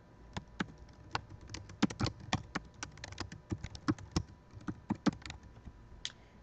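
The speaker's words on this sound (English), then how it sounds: "we're just going to type in anything in here" Typing on a computer keyboard during a quick test entry, a close series of sharp clicks in an irregular rhythm with short pauses, steady and unaccompanied by speech.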